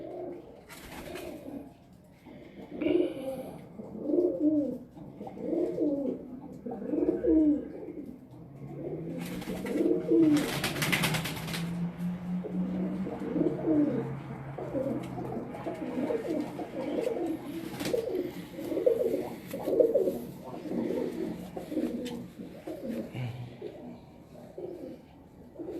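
Pigeons cooing from a rooftop in Faisalabad: a repeated, rhythmic series of low throaty coos, fairly close, with a brief flutter or scrape midway and faint background noise throughout.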